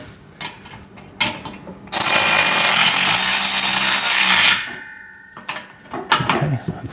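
Bolts tightened on a VEVOR home gym pec deck and rear delt machine, a loud sustained whirring burst of about two and a half seconds from a power driver, framed by metallic clanks and handling noises.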